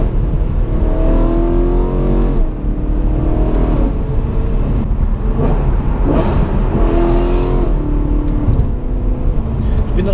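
A BMW M3 sports car engine revs up and down repeatedly in loud, close, rising and falling sweeps, with people talking over the engine noise.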